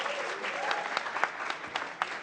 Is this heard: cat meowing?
no